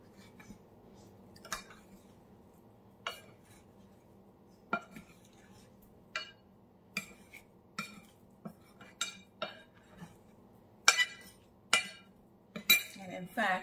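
Seasoned chicken wings tossed in a bowl give off scattered clinks and soft knocks, isolated at first and then quicker and louder toward the end, over a quiet room background.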